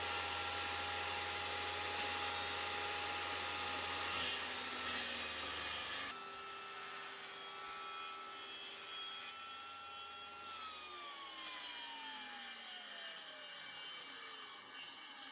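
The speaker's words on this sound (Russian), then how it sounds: "Ну и дальше я включаю пилу." Homemade table saw bench cutting through wood, a steady loud whining blade drone that drops in pitch partway as the cut loads, continuous and close with no talking.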